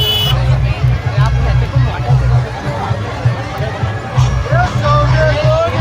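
Dense crowd hubbub at a nighttime Nag Panchami festival in Nalegaon, Ahilyanagar, with steady overlapping chatter and a low constant rumble throughout, close and fairly loud.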